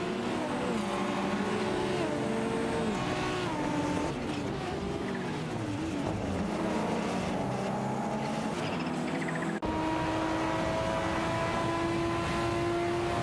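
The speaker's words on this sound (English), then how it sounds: "It's the Maserati Ghibli against the Ferrari 288 GTO in this intense battle." In a video game race, a Maserati Ghibli battles a Ferrari 288 GTO, their race car engines roaring continuously and loudly with rising and falling whines as gears shift, plus some tire squeal, and no voices.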